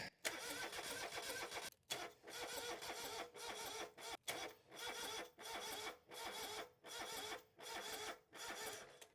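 John Deere 2653a mower engine cranking with its fuel pump just reconnected, loud rhythmic starter churning in repeated bursts separated by brief pauses, close by and without voices.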